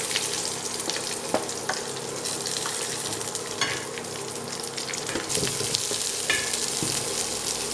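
Onions sizzle steadily in a pan of oil with browned chana dal for a keerai poriyal, a dense, continuous close frying hiss with occasional stirring scrapes and no talk.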